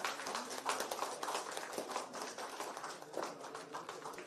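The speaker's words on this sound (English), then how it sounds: "Keep the claps up, please." Audience clapping steadily at a live Business Continuity Awareness Week ceremony as names are called out, a dense, continuous patter of many hands filling the room, fairly close and loud throughout.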